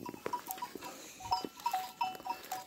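Sheep grazing in a nearly bare field on a summer morning, with short thin calls and a tinkling bell scattered over a steady rustling outdoor background at moderate distance.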